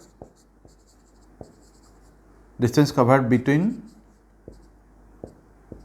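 A pen writes out a physics solution in scattered, distinct strokes and taps, near and fairly quiet, with a person talking briefly in the middle.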